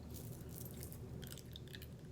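Faint, close chewing and biting with a new tongue piercing, soft crunchy mouth sounds and clicks over a low steady background, no talk.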